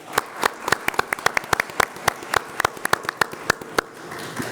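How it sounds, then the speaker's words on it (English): A handful of people clap at a Denver public schools candidate forum, distinct close claps in a quick uneven rhythm that thin out toward the end, with no talking. "And audience, a round of applause for Aaliyah."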